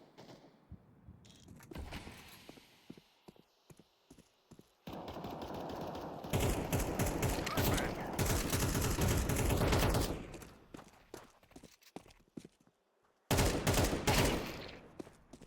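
Rapid automatic gunfire in a tactical shooter video game, long loud bursts of dense shots with short pauses and single cracks between, close and harsh, with no talking.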